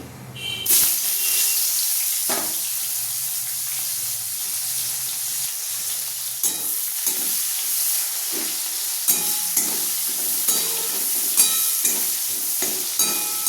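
Onions sizzle and fry in a pan with occasional stirring clatter, a steady hiss throughout and no talking.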